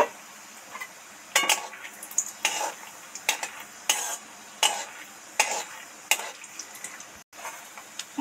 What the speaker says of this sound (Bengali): কড়া গরম আছে, এই বাদাম কটা একটু আস্তে আস্তে ভেজে নেব।